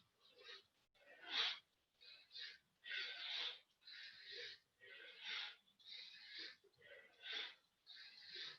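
Rhythmic, forceful breaths through the nose during a kundalini yoga practice, roughly a dozen sharp inhale-exhale bursts at a steady fast pace, close and fairly quiet with no voice over them.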